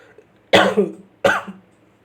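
Two sharp, loud coughs from one person, about a second apart, with quiet in between.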